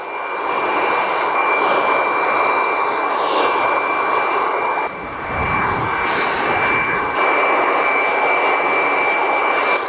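Hair dryer blowing steadily while drying and styling a man's short haircut, giving a loud, continuous whooshing roar with a constant whine and a brief dip midway, near and without talk.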